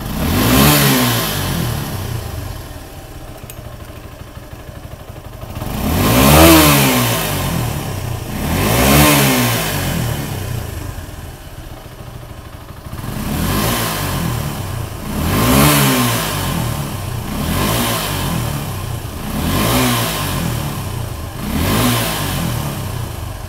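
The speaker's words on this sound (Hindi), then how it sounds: "हाई रेव करते हुए, ऑलमोस्ट फुल रेव करते हुए कैसे इसका वाइब्रेशन लेवल आ रहा है।" A Suzuki Gixxer 250 single-cylinder motorcycle engine is revved hard at standstill, rising in roughly six loud, closely miked throttle blips that swell and fall back toward idle between bursts.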